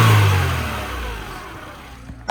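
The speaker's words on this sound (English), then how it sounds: "It's got to go like a sharp rev and then close the throttle." A Mercedes-Benz W202 C180 engine with exhaust trouble snaps to a loud, sharp rev, then the throttle closes and the roar sinks away, followed by a brief blip near the end.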